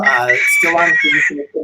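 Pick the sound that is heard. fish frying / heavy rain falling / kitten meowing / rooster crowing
rooster crowing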